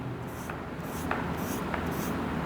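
Chalk or marker scratches on a board while writing out a decimal to binary conversion, with soft rhythmic strokes and short squeaky taps over a steady background hiss.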